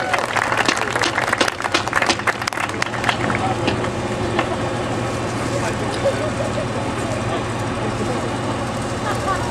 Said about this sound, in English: One more round of applause for Jaden, everybody